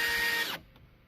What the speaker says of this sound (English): No, the breeze from the drill.